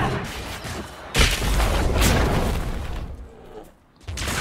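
A fire spell erupts in Dragon Age Inquisition during a fight with bears, giving a loud, sustained roaring blast that rumbles for a few seconds, fades, then swells again.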